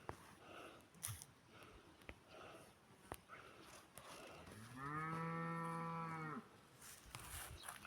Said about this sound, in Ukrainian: Бачите, коровка.